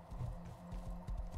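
A horse's hooves clop along at a walking pace in the Rust video game, a series of quiet, evenly spaced thuds under a low steady background hum.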